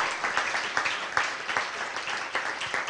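Congregation applause during a sermon at an evangelical church service, a dense steady patter of many hands clapping at moderate level, with faint voices mixed in.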